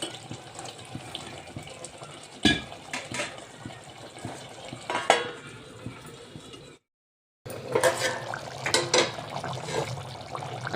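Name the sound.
water poured into jackfruit vegetable curry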